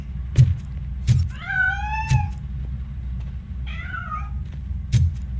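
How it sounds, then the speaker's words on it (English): A cat gives two clear, rising-and-falling meows a couple of seconds apart, heard over a low engine-like rumble and a few dull thumps. "That cat must be hiding inside."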